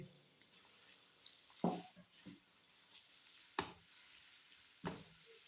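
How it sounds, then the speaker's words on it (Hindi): Onions softly frying in hot oil for a mutton kaleji masala, a quiet low sizzle broken by a few sharp stirring scrapes and clacks of a spoon against the pot; no talking. "प्याज़ों को 2 मिनट के लिए हम सोता करेंगे।"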